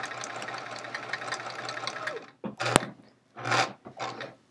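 A sewing machine stitches quilt chevron pieces in a steady, rapid mechanical whir for about two seconds, then stops and restarts in short bursts, close and fairly quiet, with no voices.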